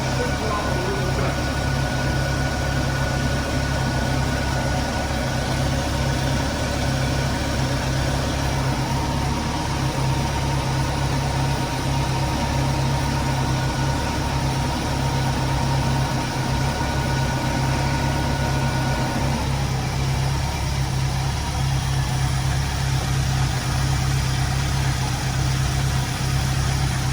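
A 1973 Mustang convertible engine idles steadily with a low, even rumble and rhythmic pulsing, the note dropping slightly partway through as the idle speed falls, loud and close with no talking.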